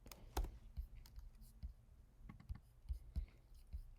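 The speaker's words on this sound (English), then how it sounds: "I'm gonna type in the word checkout." Typing on a computer keyboard at an online ordering setup: a quiet, irregular run of close key clicks and taps, with brief pauses between clusters.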